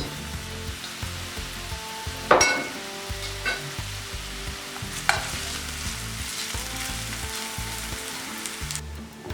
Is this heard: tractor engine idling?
no